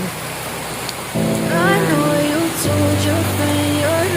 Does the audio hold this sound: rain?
yes